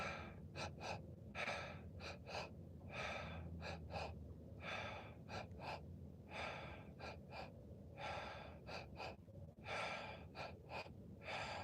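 Deep breathing during a guided exercise comes as a series of sharp, audible inhales in uneven clusters, repeated close to the mic over a low background hum.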